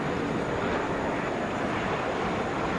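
American Airlines Airbus A321 arriving at Atlanta airport on a flight from Phoenix, a steady broadband jet roar that holds at constant loudness throughout, with no voices.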